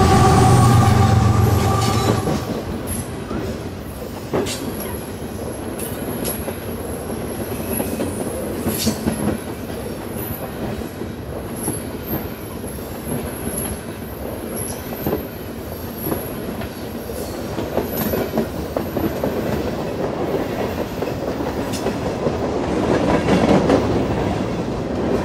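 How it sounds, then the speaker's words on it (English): A Canadian Pacific 39Z freight train heads northbound past a mill, hauling loaded trash gondolas and intermodal containers. It rolls loudly and steadily nearby with rhythmic wheel clatter and intermittent high metallic squeals. "CP ran several trains a day over the Lehigh Line, including what NS classified as the 39Z, which we can see here moving northbound past the mill"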